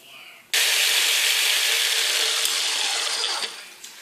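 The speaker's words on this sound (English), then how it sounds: "Now, while I let it blend and scrape the sides" A blender whirs loudly and steadily through a raw vegan chocolate truffle mixture, switching on abruptly after a brief quiet start and running continuously with slight dips in tone near the end.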